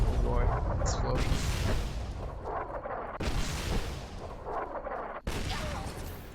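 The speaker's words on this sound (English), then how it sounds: "Oh boy, explosion." Explosions boom in the video game Fallout: New Vegas, with heavy, rumbling blasts rolling on for several seconds amid game noise and speech.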